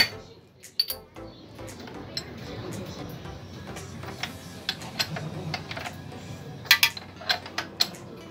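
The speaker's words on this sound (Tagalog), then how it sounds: "kakailanganin natin ng 19mm na wrench. So luluwagan lang natin yan" A 19mm wrench loosening the chain adjuster nut on a Honda XRM125 motorcycle, with scattered metallic clicks and ticks over a low background murmur, and a denser cluster of sharp clinks near the end.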